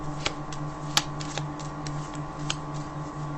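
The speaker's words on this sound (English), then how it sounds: "Got a couple of mini cards here that I sometimes like to use and shuffle" Small tarot cards shuffled in quick bursts, soft papery flicks with a few sharper snaps, close up over a steady low hum.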